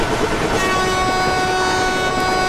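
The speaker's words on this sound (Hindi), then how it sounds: "लंबा सा हॉर्न बजा देते हैं।" A Vande Bharat Express train sounds a long, loud, sustained horn blast, steady from start to finish over the rumble of the moving train.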